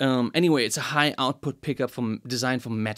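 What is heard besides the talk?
No everyday noises stand out.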